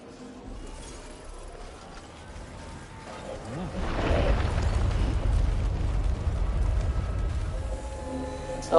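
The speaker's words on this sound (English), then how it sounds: "Let's use up the grenade pistol" A grenade pistol in the video game Death Stranding 2 fires and sets off a deep, rumbling explosion that swells midway and lingers as a heavy low roar, with faint mechanical clicks before it.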